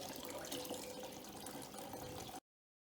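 Buffalo milk whey pouring steadily into a strainer while making mozzarella, a continuous liquid splash and trickle that runs for over two seconds and then stops abruptly.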